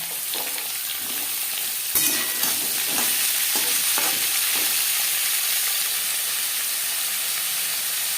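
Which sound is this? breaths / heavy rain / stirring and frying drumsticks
stirring and frying drumsticks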